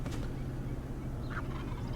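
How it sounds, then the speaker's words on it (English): Wild turkeys gobble in the distance during a hunt, with a fairly faint gobbling call under a steady low background hum. "there was birds gobbling over here"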